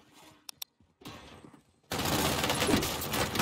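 Dense, loud gunfire from the video game Call of Duty Cold War erupts halfway through, after a couple of sharp isolated shots and quieter clatter, then continues as a sustained roaring burst to the end.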